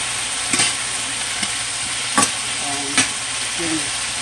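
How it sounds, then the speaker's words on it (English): Red potatoes stir frying in a very hot pan, giving a steady loud sizzle and hiss with sharp scraping clatters of stirring every second or so, close by. "Those potatoes are cooking fine."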